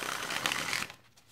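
A tarot card deck is riffled in one quick, crisp burst of close-up shuffling that lasts under a second, then stops, leaving near quiet.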